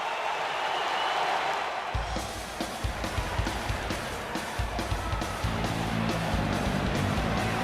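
A capacity arena crowd in a UFC video game cheers and applauds in a dense continuous roar, with rhythmic claps rising from the wash of noise.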